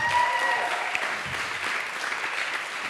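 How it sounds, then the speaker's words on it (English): Audience applause for the technical staff at a summer conference session, a steady wash of clapping from a crowd that holds evenly for the whole stretch without voices. "I will also ask you an applause for the technical staff"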